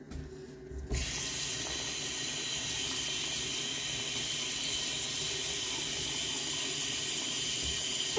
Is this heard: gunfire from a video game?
no